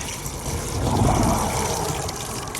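Water is poured onto postcrete in a fence post hole, giving a steady, close gushing splash that swells slightly midway and runs for a couple of seconds with no one talking.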